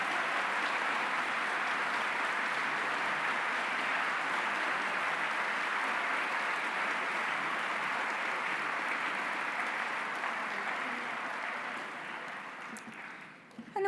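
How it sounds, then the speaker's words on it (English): Band concert audience applauding school administrators, a broad, sustained wash of clapping from a large crowd in a hall that holds steady for several seconds before tapering off at the end. "ask you to just applaud all the administrators"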